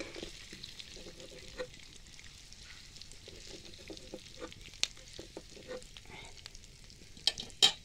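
Boiled potatoes frying lightly in a pan, a soft continuous sizzle broken by frequent scrapes and clicks of a stirring spoon, growing sharper toward the end.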